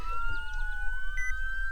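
A police car siren wails in a video game, its electronic tone gliding and then holding steady, loud and close over a low rumbling bed.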